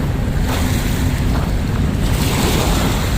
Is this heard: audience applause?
no